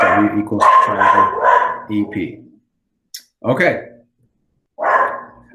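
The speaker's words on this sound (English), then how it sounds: "If you hear my dog in the background" A pet dog barks repeatedly in the background of a home, several sharp barks in quick bursts with pauses between them, mixed under a person talking.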